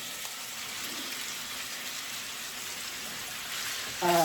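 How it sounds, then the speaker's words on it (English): Mostly defrosted sausage frying in a pan over low heat gives a steady, even hiss of sizzling fat, with a slight swell at the very end. "I'm cooking up the sausage here."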